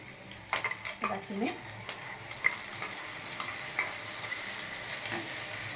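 Ground peanut masala frying in a pan while being stirred, with soft sizzling, scattered utensil clicks and a few scrapes, fairly quiet and close.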